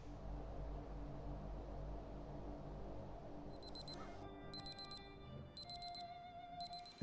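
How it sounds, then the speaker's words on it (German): In Far Cry 4, a quiet ambient hum gives way midway to an alarm clock's electronic beeping, repeated short bursts in a steady pattern that carries on to the end. "Wir hören den Wecker, der uns nervt."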